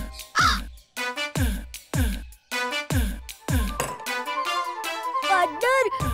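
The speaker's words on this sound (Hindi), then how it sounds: "अरे ये कौवा हमला कर रहा है, भागो।" Animated crow in a Hindi children's cartoon caws loudly in a rapid series of harsh, evenly spaced calls, then a higher warbling cry follows near the end.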